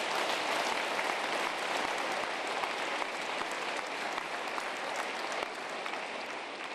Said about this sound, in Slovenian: dajmo še malo večji aplavz za gospoda